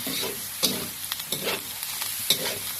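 Wide rice noodles stir-fried with pork, cabbage and egg in a hot pan, a close sizzling hiss broken by rhythmic scraping and tossing strokes of a spatula every half second or so, with no voices.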